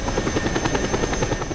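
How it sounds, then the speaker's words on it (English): A damaged, smoking helicopter in Just Cause 2 whirs with a loud, close, steady rotor chop beating in a fast rhythm throughout, with no talk over it. "I'm already in a, a smoking helicopter."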